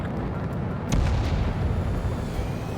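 Anti-aircraft fire and explosions boom in the Ace Combat 7 combat flight game. Rapid heavy blasts rumble loudly and continuously, thickening into a denser barrage after the first second.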